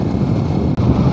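Strong wind blows across a hillside by a landslide-damaged road, a loud steady rumble buffeting the microphone close up, with one brief dropout and no talking.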